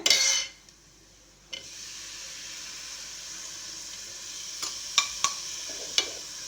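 Finely chopped tomatoes added to a hot pan for boiled egg gravy: a loud initial hiss dies down into a steady low sizzle, with a few clinks of the stirring spoon against the pan near the end.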